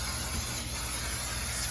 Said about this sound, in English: Here's my cooking spray. We're just going to spray